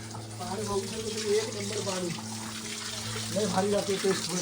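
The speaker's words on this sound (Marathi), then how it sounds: "चोवीस तास वाहणारं पाणी" A stream flows steadily with a soft, continuous rushing sound, while voices murmur faintly underneath.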